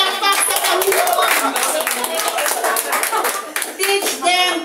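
A church congregation in San Mateo, Rizal claps together during a worship service, steady loud rhythmic hand clapping close by, with voices faintly under it.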